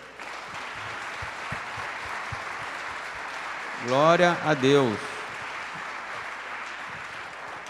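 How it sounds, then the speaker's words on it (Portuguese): Church congregation applauding during a celebration service, steady sustained clapping throughout, with a voice speaking briefly over it midway. "Vamos aplaudir ao Senhor."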